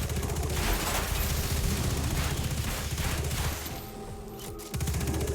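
Dense, continuous gunfire rattles through a Destiny 2 Master Lost Sector fight at the Bay of Drowned Wishes, loud and sustained, with bursts easing slightly near the end before picking back up.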